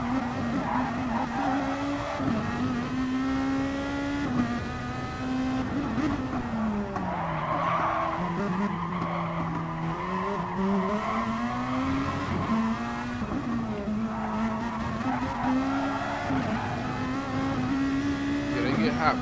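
A race car weaves through an endurance race at Spa to heat its tires. A close, continuous engine note runs throughout, its pitch rising and falling as the car swerves, with occasional tire scrubbing.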